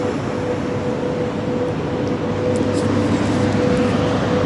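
A loud train passes close by in Western Russia, a dense, steady roar of rumbling wheels and rushing noise that holds for several seconds with no talking over it.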